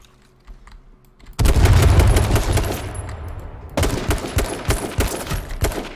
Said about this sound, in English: I'm being shot in the back.